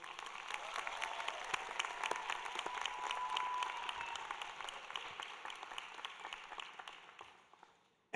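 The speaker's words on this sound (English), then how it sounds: "can we have a round of applause for your families?" Applause from graduates at a Rutgers School of Public Health convocation, honouring their families: steady, dense clapping across a large hall, moderately far and even, thinning and fading out near the end.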